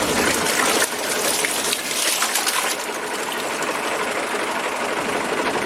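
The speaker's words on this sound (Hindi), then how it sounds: "वो मोटर लगी हुई है जिसके जरिए इसमें से पानी निकलता है" A tubewell motor in Pakistan pumps water, giving a loud, continuous gushing splash layered over a steady mechanical whir, close by and unbroken for the whole stretch.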